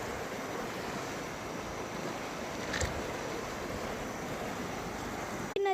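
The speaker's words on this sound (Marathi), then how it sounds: "तुम्ही पाहू शकता नदीचे सुंदरचं पाणी शांतपणे वाहतंय." Calm river water flowing in a steady, even wash that lasts throughout, mixed with wind noise, with a brief knock near the end.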